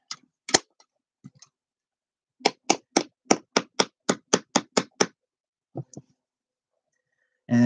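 A staple gun fires into a wooden canvas frame, fixing stretched denim from old jeans, in a quick run of about ten sharp, evenly spaced snaps, with a few scattered clicks before and after.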